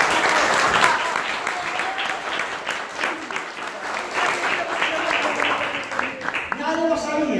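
An audience breaks into sustained applause at a family birthday celebration, loud and dense, with voices talking over the clapping and a voice rising near the end.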